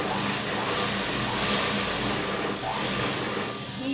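Sewing machine stitching the front panel of a blouse, a continuous close-up mechanical whir with a fast needle rhythm that stays steady throughout.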